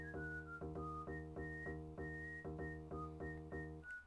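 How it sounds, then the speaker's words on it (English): A character in Magician's Quest whistles a simple tune, a clear run of short, evenly paced notes over a steady musical backing. "The nice thing about this game is you can whistle."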